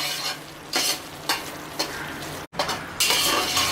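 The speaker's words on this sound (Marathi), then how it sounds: "रवा अगदी आपल्याला छान गोल्डन ब्राऊन करायचं आहे, अगदी परफेक्ट असा छान परतून घ्यायचं आहे" Semolina roasting in ghee in a pan for prasad, stirred with repeated close scraping strokes about every half second over a continuous loud sizzle, with one brief break in the sound.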